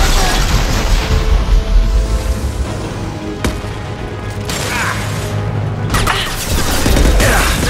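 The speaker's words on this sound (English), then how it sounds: "Heavy weapon, get down!" Heavy weapon explosion in the Mass Effect shooter, a loud booming blast followed by rumbling debris and sharp cracks of gunfire amid sustained combat noise.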